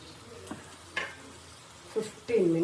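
Chicken pieces, shallow-fried and then doused with milk, cook in a pan over a high flame, giving a soft sizzle broken by a few stirring scrapes and a louder hiss that swells at the end.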